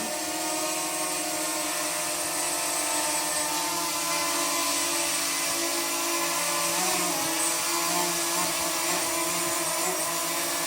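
A steady high-pitched whirring buzz of a DJI Mavic Mini drone's rotors flying indoors continues throughout, close and unbroken.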